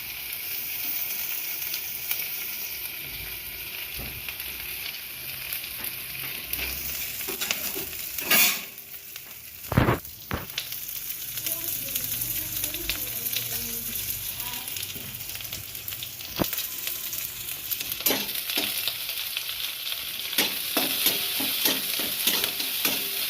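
Onions sizzle in a pan over cumin-tempered oil while being stirred, a loud continuous frying hiss broken by a few sharp scrapes and knocks of the spoon against the pan.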